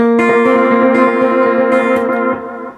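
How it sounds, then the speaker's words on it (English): A sustained electric guitar chord through an analog delay with modulation turned up rings with shimmering, wavering delay repeats that trail and slowly fade, heavily effected and close. "an analog delay with a modulation applied to the delay tails"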